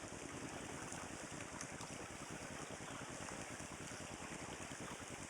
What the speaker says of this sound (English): Another babbling brook.